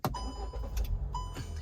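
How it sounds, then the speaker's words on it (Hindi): A 2016 Hyundai i20 hatchback with about 60,000 km on it, its engine starting: a brief crank and catch settling into a steady close idle, with a few chimes and clicks from the cabin and no talking. "ये गाड़ी स्टार्ट हो चुकी है।"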